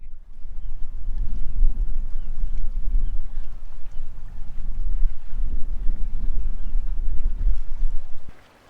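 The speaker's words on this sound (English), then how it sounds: "It's windy." Strong wind on the Isle of Skye roars and buffets steadily at close range, a loud low rumble with gusty swells, then cuts off abruptly at the end.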